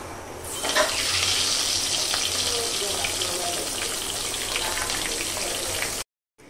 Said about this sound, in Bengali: এই পর্যায়ে আমি মাছগুলোকে ভেজে নিচ্ছি।